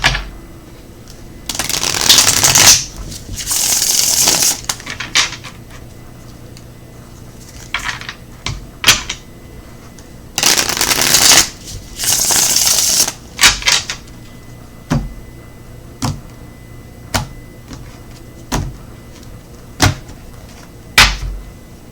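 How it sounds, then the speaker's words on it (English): A tarot deck shuffled in two long riffling bursts, then a run of sharp, evenly spaced taps and flicks as cards are handled and set down. "All right, 2 more shuffles."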